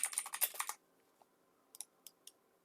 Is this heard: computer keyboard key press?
yes